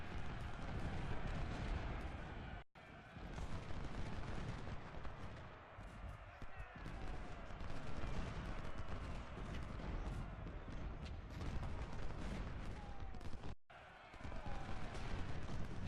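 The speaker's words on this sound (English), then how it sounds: "just fire volleys into him" Musket volleys and artillery fire in the Ultimate General: Civil War video game form a dense, continuous roar of crackling gunfire and booming cannon, loud and layered throughout, broken by two brief silent gaps.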